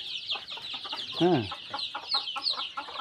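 A crowd of young chicks peeps in constant high overlapping chirps, with a louder hen cluck in the middle.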